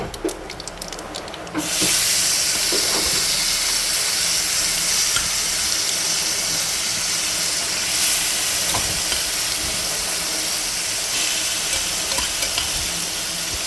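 Hot tempering of dried red chillies, green chillies and asafoetida poured into banana flower moong dal curry, setting off a loud, sudden, sustained hiss and sizzle that holds steady for over ten seconds, close up with no talk.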